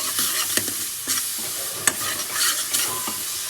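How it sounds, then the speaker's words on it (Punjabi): Masala sizzles in a pan while a spoon stirs it, with soft clinks and scrapes over a steady frying hiss, close and alone. "ਤੇ ਮਸਾਲਾ ਭੁੱਜਦਾ"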